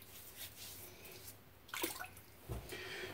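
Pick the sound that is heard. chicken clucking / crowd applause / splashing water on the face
splashing water on the face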